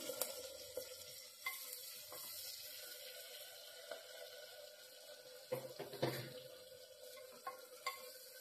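Tomatoes and coriander frying in a pan for a brinjal gojju give off a steady, low sizzle, with occasional stirring clinks and scrapes. It sounds close and fairly quiet, and no one speaks.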